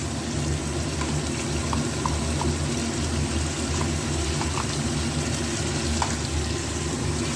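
Ground onion paste sizzles in hot oil for a meat-style curry, a dense continuous frying hiss with occasional small pops, close and steady with no talking.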